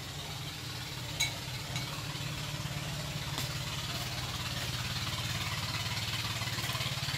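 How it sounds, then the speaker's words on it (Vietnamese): A steady low motor drones on throughout, a boat engine chugging at a distance on a river with a faint rhythmic throb and no voices. "Ủa xong cái xe có ghe nào chạy ta?"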